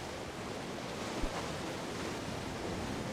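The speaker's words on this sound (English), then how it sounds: "Let's see if we can evade those waves." Ocean surf in the video game Fishing Simulator, a steady, soft wash of breaking waves with no gaps and a brief bump partway through, heard alone.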